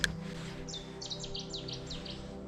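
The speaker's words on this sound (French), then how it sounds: "Joli chant des oiseaux." Small birds sing outdoors near a carp fishing spot, a series of quick high chirps and short trills at moderate distance over a steady low outdoor hum.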